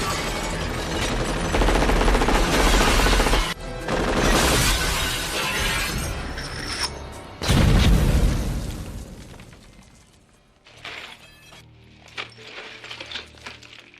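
A gunfire shootout from the film Die Hard rages in loud, dense bursts with crashing impacts and shattering glass, then drops to scattered quieter shots and debris near the end.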